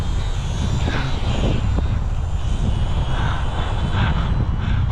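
An ultra micro RC model plane flies in strong gusty wind, its small propeller droning steadily under heavy, constant wind rumble close to the microphone.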